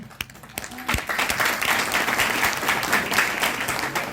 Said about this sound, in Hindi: तो एक बार बुलडोजर जैसी आप लोग तालियां यदि बजा दें।